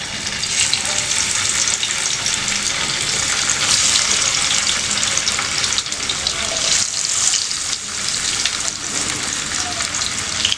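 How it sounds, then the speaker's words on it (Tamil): Sardines fry in a pan of hot oil with a loud, continuous, close sizzle that crackles steadily throughout, with occasional faint clatter. "இப்போ ஒரு ஃபிஷ்ஷாக போட்டு ஃப்ரை பண்ணிக்கலாம்."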